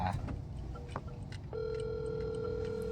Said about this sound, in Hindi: फ़ोन किया, फ़ोन उठाया नहीं